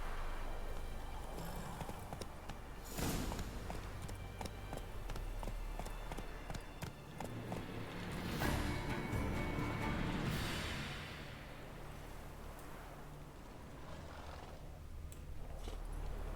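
Roach the horse gallops in The Witcher 3 video game, a faint, steady run of clip-clopping hoofbeats with a few louder swells.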